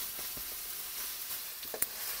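Oil sizzling steadily in a pan while ginisang pakbet cooks, a soft continuous frying hiss with a few brief louder pops near the end, no talking.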